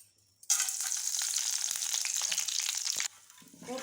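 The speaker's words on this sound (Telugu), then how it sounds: "ఇప్పుడు వీటింటికి పోపు వేసుకుందాం" Tempering spices crackle and sizzle sharply in hot oil for a few seconds, loud and close, then the sizzling cuts off abruptly.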